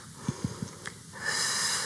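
A single long breath out during a Pilates exercise follows a few soft thumps, rising into a steady, airy hiss that holds to the end, close and moderately loud.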